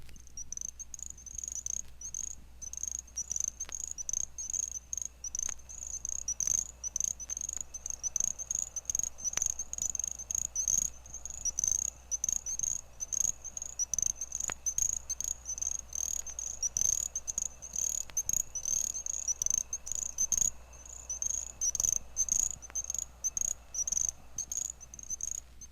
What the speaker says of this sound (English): The least tree frog, Pseudacris ocularis, found from North Carolina to Florida, is the smallest of our North American frogs and toads